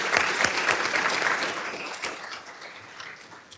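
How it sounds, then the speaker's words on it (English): A conference audience breaks into loud applause for two presenters, a dense burst of many hands clapping that starts strong and slowly thins out over a few seconds, with no talking. "Another round of applause for them"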